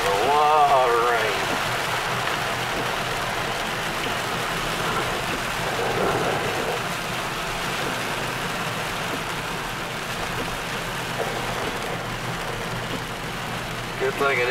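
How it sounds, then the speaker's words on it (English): Heavy summer rain pours onto a vehicle driving near Gatlinburg, a dense, steady hiss of drops drumming on the body and roof with a low road rumble beneath, loud and continuous throughout. "There's a lot of rain."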